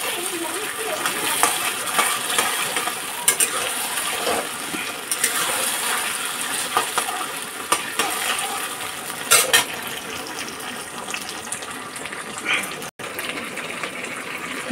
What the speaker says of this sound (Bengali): তাই ভালো করে এই যে ভেজে কচুর লোদটা পুরো কাটিয়ে দিচ্ছি